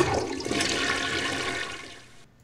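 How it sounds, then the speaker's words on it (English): A toilet flushes in one continuous rushing, gurgling surge of water that stays loud for about two seconds and then cuts off abruptly. "Do you have a toilet flushing sound?"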